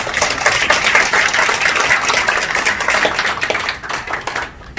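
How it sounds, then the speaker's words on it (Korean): A room of attendees at a political party founding ceremony gives steady, close applause of many hands clapping continuously, thinning out and fading near the end. "박수 바랍니다"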